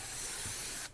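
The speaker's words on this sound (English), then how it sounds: "We're going to spray on top of the underlay." Spray adhesive hisses steadily onto stair carpet underlay in one continuous, close burst lasting nearly a second, then cuts off abruptly.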